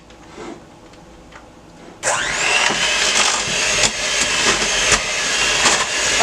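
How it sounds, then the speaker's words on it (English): A hand blender whirs loudly into potatoes and milk being mashed for a smothered pork chop dinner. The motor kicks in abruptly after a quieter moment and then holds a steady, close, hissing drone. "you can use a hand blender like I'm doing"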